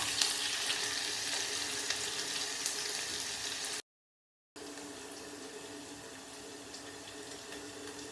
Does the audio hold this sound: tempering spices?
yes